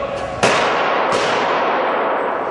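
Two sharp, loud shotgun blasts about half a second apart, each followed by a long reverberant decay, echoing through a large enclosed shopping mall space.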